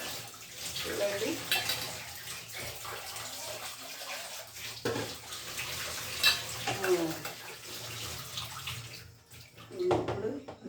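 Tap water runs steadily into a sink while noodles are rinsed, a continuous splashing wash with occasional clinks and brief voice-like sounds in the background.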